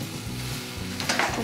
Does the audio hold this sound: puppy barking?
no